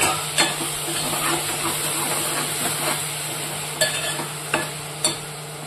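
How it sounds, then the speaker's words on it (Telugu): Tomato pieces softening in a pan for a cucumber tomato curry give off a quiet steady sizzle, with a few sharp clicks of a spoon against the pan. "టమాటా ముక్కల్ని కొంతసేపు మగ్గనిద్దాం."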